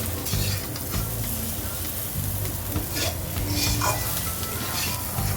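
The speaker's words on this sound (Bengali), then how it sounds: "চিংড়ি মাছ ভাজা হয়ে গেছে" Shrimp and chopped onion fry with turmeric in a pan, a loud, continuous sizzle broken by scraping stirs and the occasional clink of a utensil.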